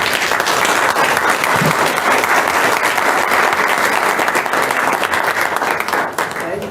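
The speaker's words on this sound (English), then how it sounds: "I would just like for us to stand at this time and give them an applause." Sustained applause fills a board meeting room as attendees stand to honor new members, a dense, steady wash of clapping from many hands that stays loud throughout and thins slightly near the end.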